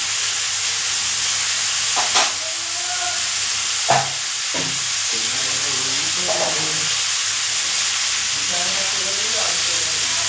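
Spices frying in a pan in a home kitchen make a continuous sizzle and hiss, with a few clatters and scrapes of stirring and faint voices now and then in the background.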